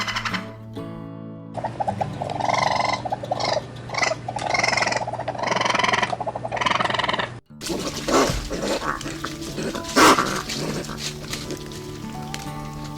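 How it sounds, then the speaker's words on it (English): Animal calls credited to a Russian raccoon, a run of grunting, chattering vocalizations of moderate loudness, broken by a brief gap, then continuing with a louder burst near the end. "These are the sounds the Russian raccoon makes."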